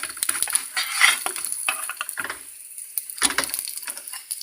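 A radish paratha fries in oil in a pan with a close, hissing sizzle, broken by clinks and scrapes of a utensil against the pan as it is turned.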